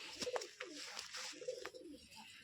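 Rajshahi Giribaz pigeons coo softly in short, repeated rolling calls, close by in a quiet setting.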